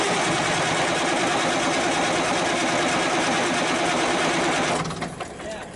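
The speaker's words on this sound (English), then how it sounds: "It just tried to crank." Cummins 350 Big Cam diesel engine cranking as it tries to start, a loud, steady churning drone that runs for several seconds before dropping off.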